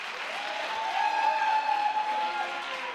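Audience applause at a live stage magic show, steady crowd clapping throughout with a tonal hum running through the middle.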